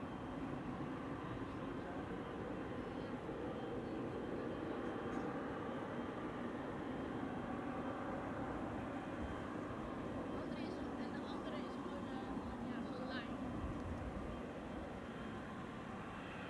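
An airplane landing at Amsterdam Schiphol in a crosswind gives a steady, broad engine roar that holds at a moderate distance for the whole stretch, with a voice talking quietly underneath.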